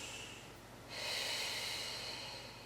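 A single deep inhale during a Pilates breathing exercise, a soft airy rush of breath that swells after a quiet moment and holds steady to the end, close and alone.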